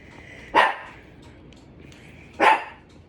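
A dog barks indoors twice, two loud sharp single barks about two seconds apart, each standing alone over a quiet room.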